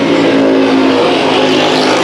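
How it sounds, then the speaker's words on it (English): Race cars roaring through a heat race at Arizona Speedway, a loud continuous engine drone with steady high-pitched whine from close by, no talk over it. "the 42 machine of Ian Smeltzer. And battle for the third position"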